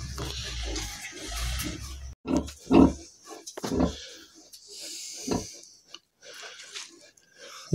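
A nervous sow farrowing a litter of very large piglets, the newborns starting to suckle; low grunts and snuffling chewing sounds come in irregular close bursts with short quiet gaps.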